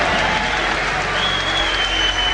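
Boxing arena crowd applauding a knockout, a dense, steady roar of clapping and cheering filling the whole span at close, loud level without a break.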